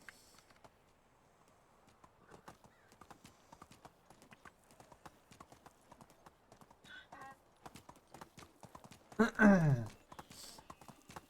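Hooves of a horse ridden through a wintry video game landscape: quick, steady clip-clop strides close by, with a loud whinny rising near the end before the hoofbeats continue.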